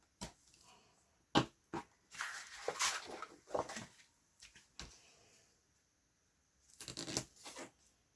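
Score tape is pulled and pressed along the paper edges of a 6x6 tri-fold mini album, giving short, sparse tearing and crinkling bursts separated by quiet pauses, close and soft.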